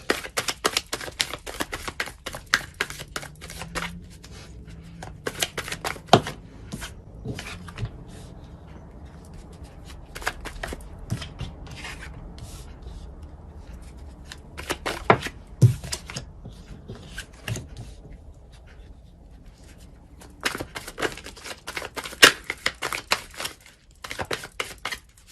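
Tarot cards shuffled and drawn during a Taurus reading, giving scattered bursts of crisp card flicks and riffles separated by quieter stretches of soft sliding and rubbing, close and alone without talk.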